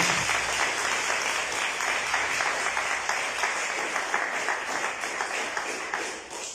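A church congregation applauds in a sustained, dense wash of clapping that holds steady for several seconds before tapering slightly at the end, with no speech over it.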